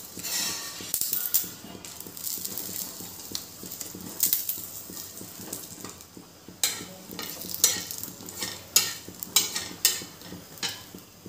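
Cloves, peppercorns and bay leaf sauté in a little oil in a pan for a spicy egg curry, giving a steady close sizzle broken by scraping stirs and sharper crackles that grow busier toward the end.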